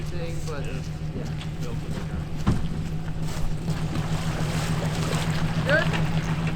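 An outboard motor pushes a duck-hunting boat at full throttle in strong wind, making a steady drone under heavy wind buffeting and water noise, with voices nearby.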